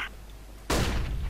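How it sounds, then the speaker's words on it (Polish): A flashbang grenade explodes in Counter-Strike: Global Offensive, a single sudden loud burst after a quiet stretch, its noisy crash sustaining to the end. "Throwing flashbang."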